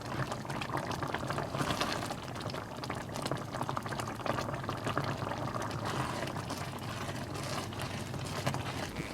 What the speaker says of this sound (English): Mine started to simmer down pretty quickly, so I turned it down to a lower heat and left it to boil like that